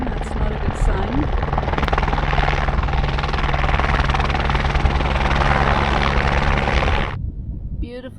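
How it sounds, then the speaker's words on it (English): A helicopter flies overhead near Aconcagua in the Argentine Andes, a loud, steady rotor thrum and engine whine that holds for about seven seconds, then cuts off abruptly, leaving quiet outdoor ambience. "There's a helicopter coming,"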